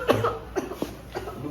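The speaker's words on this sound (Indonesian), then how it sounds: "Dia batuk berdarah suster." A woman who is coughing up blood in a hospital gives a few short, harsh coughs in quick succession, fairly close and moderately loud.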